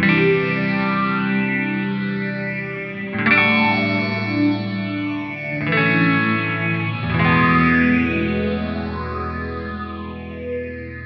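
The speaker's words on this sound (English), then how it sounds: "And now I'm going to bring in the phaser." Heavily distorted, reverberant ambient synth tone with a slow phaser sweep moving up and down through it, loud and continuous with no voices.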